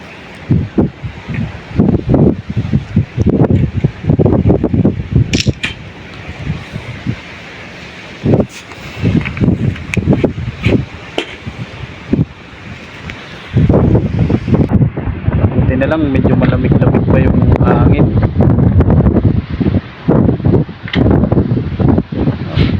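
Gusts of wind buffet the microphone in loud, rumbling bursts that come and go throughout, with intermittent talking underneath, outdoors at a work site in Saudi Arabia.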